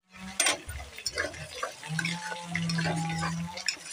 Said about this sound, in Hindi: पानी दे देबा।